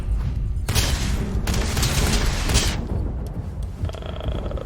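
Rapid gunfire from Starfield, a space video game, comes in dense, loud bursts lasting a second or more each, with brief gaps and some mechanical clatter.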